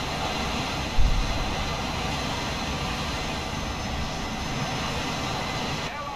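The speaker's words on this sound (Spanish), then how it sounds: "Hay un jet enemigo." A steady A-10 jet engine roar drones throughout War Thunder, with a brief thump near the start, like a game soundtrack with constant broadband noise.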